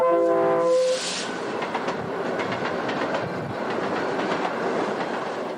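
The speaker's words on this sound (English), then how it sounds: "This coal train on the north leg of the Y is on the Black Hills Sub." A loaded coal train on the Black Hills Sub in the Powder River area rolls steadily over the rails, rhythmic clickety-clack continuing throughout after a brief horn blast at the start.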